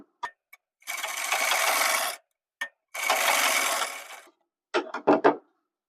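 Sewing machine stitching a gents' shirt, running in two steady bursts of a second or so each, separated by short clicks and handling taps, then a few quick stuttering stitches at the end.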